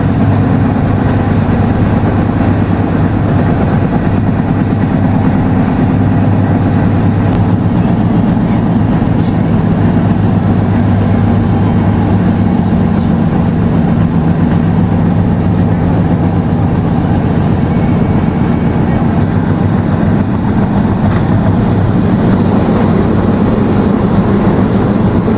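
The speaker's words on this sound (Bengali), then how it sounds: "ঘন্টায় 92 কিলোমিটার গতিবেগ নিয়ে ছুটে চলছে আমাদের জাহানাবাদ এক্সপ্রেস।" Jahanabad Express train running at 92 km/h, a continuous heavy low rumble and drone of the moving carriage heard from on board, steady and unbroken for the whole stretch.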